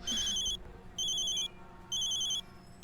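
A telephone rings in an indoor domestic scene, three loud electronic ring bursts about half a second each, separated by short pauses, with no talking over them.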